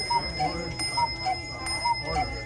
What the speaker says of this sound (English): So it'll cuckoo out the hour.